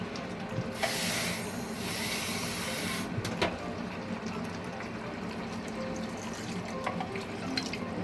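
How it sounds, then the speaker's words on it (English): Water runs from a tap and is poured into a cooking pot of chicken pieces for a one-pot chicken pelau, a steady rushing hiss with a brief stronger gush early on, then continuing fainter with small clinks and kitchen noise. "So I'm going to add just enough water to cover the chicken."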